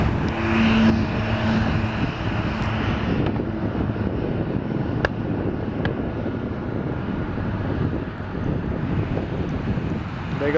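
An Ameriflight plane departing an airport, its engine roar a loud steady rumble spread across the whole stretch, with wind buffeting and no clear voices.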